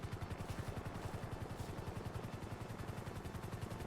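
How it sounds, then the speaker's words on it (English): A helicopter's rotor thumps in a steady rapid rhythm, fairly close and loud, with constant engine whine throughout. "I hear a helicopter."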